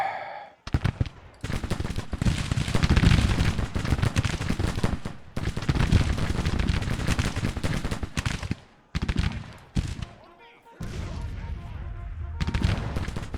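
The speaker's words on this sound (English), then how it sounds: "There goes the guns." Civil War battle gunfire in Grand Tactician: The Civil War, with sustained crackling musket volleys and rolling heavy shots in several loud bursts, broken by brief near-silent gaps, then quieter scattered firing.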